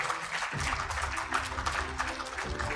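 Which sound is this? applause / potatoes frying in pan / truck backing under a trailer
applause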